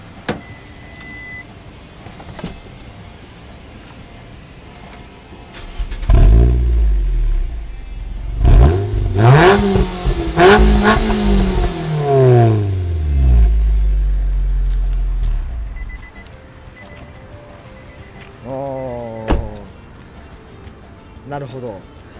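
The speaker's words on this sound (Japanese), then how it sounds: "これもニスモから出てるチタンマフラー の。" Nissan Note NISMO S fitted with an aftermarket NISMO titanium muffler replacing the stock stainless one, revved in a few loud swelling bursts that rise and fall over several seconds, with people talking before and after.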